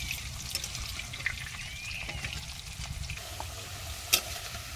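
Potatoes frying in a pan of oil over a village kitchen fire, a soft continuous sizzle and crackle with faint watery trickling and one brief clatter near the end, no voices.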